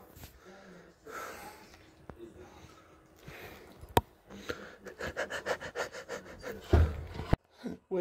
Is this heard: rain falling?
no